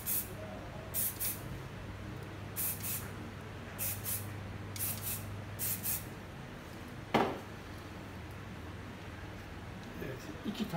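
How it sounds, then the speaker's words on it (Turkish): Hairspray is sprayed onto brushed-back hair while styling a bun, with several short, sharp hissing bursts from the can in quick succession, fairly close, amid a quiet room. "Spreyimizi sıkıyoruz yönüne doğru."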